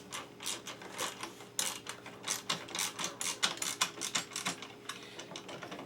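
Small metal clicks and ticks from a 4 mm Allen key snugging the bottom bolts on an aftermarket steering assembly, a rapid irregular rattling patter that carries steadily throughout at close range.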